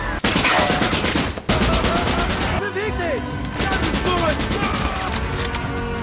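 Gunfire erupts in a film scene as an enraged man shoots at people below him, loud rapid bursts layered over a dense soundtrack with voices and music-like tones throughout.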